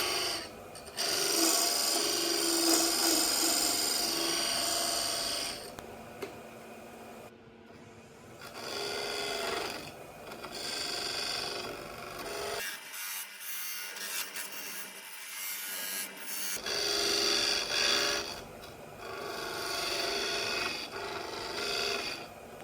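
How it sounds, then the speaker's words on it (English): Skew chisel and pointed carbide tool cutting beads into a spinning wooden tea light holder on a lathe, a sustained rasping scrape that repeats in long passes, broken by brief pauses and one quiet gap mid-way. "I'm refining the beads with my skew chisel and my pointed carbide tool."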